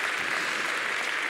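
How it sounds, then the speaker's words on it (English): Steady applause from a graduate audience at a school's celebration event, a dense wash of many hands clapping at even volume throughout the brief moment. "Yes, you can definitely applaud."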